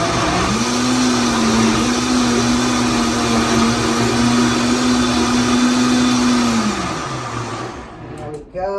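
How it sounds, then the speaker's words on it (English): A Vitamix blender blends a full jar of green smoothie with a loud, steady high whir that holds for about seven seconds. The motor then winds down and stops, ending in a few clunks. "everything is in the Vitamix. We just have to turn it on"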